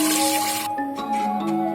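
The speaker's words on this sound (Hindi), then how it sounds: "अब हम उसका डबल 9 गिलास पानी इसमें डालेंगे" Water poured into a pot of fried chicken for Afghani kabuli pulao, a steady close splashing and gurgling stream that runs throughout, loudest at the start, with no talking.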